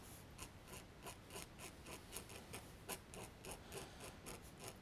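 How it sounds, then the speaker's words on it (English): A palette knife scrapes paint across watercolour paper for a textured rocky quarry effect, making a soft, steady series of rhythmic raspy strokes at close range and low volume. "It kind of scrapes the paint off, giving more of a shape or a texture to the paper."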